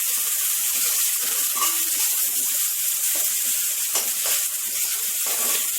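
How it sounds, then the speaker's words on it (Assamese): Onion, ginger and garlic fry together in a wok, giving a continuous soft hiss and crackle with faint clinks, with no voices over it. "কেৰাহীত পিঁয়াজ, আদা, ৰচুন একেলগতে দি লৈছে।"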